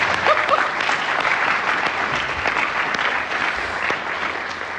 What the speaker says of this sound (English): Give yourselves a round of applause because we're making it.